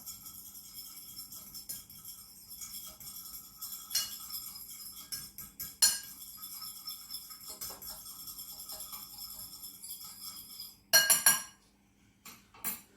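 A fork scrapes and clinks against a bowl while mixing cubed tinned corned beef with Worcestershire sauce, a run of steady light metallic taps and scrapes with a louder burst of clatter near the end.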